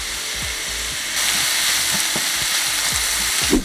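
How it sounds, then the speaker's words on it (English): Loud, steady sizzling from onions frying in clarified butter in a hot pan, with occasional clicks and scrapes of stirring throughout. "we're going to fry the onions until brown"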